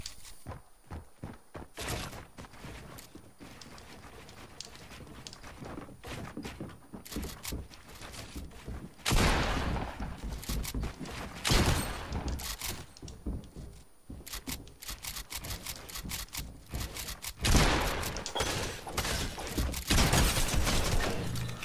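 Rapid video game gunfire crackles in a continuous stream of sharp shots, with louder bursts and heavier thumps clustered later in the clip, and no speech.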